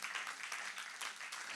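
A church congregation applauds a guest during a worship service, with dense, steady clapping filling the space for a short burst.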